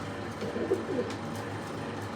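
A pigeon coos faintly and briefly against a steady low background hum, with no talking.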